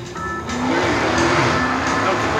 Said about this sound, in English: There goes our 2016 Dodge Challenger from our US Navy friends as they leave the parking lot.